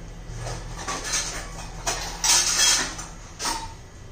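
Chopped capsicum, carrot and onion tipped into a bowl for a besan chilla, soft scattered clinks and scrapes of kitchenware in short bursts, close and fairly quiet, with no talk.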